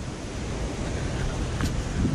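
Someshwar waterfall near Igatpuri and Deolali, still running with strong force at the end of the rainy season, gives a steady, dense roar of rushing water that stays even throughout with no voices.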